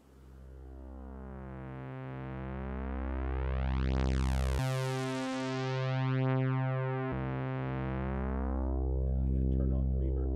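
A single basic synthesizer oscillator plays a sustained tone, its harmonics sweeping upward and back down, loud and steady with a brief shift in timbre midway, no voices.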